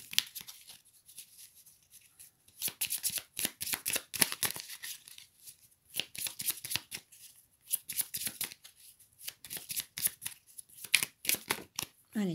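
Tarot cards being shuffled by hand in repeated bursts of riffling and sliding, close and fairly quiet, with short pauses between rounds and no talk over them.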